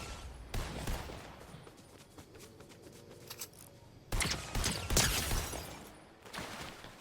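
Rifle fire from Fortnite in a Zero Build match in OG Season 8, from scoped and thermal scoped assault rifles shooting at long range: loud bursts of rapid shots come in two clusters with a quieter stretch between them.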